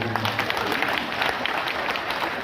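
Audience applause at a Hindi comic poetry gathering (hasya kavi sammelan) held by the Vipra Foundation, a dense, steady wash of clapping across the whole short stretch.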